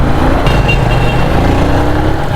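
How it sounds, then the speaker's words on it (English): Busy city street traffic in Mansoura, Egypt: a continuous, loud rumble of cars and motorbikes passing close by, with engines droning steadily throughout and no talking. "Traffic is just like in Giza or Cairo so far."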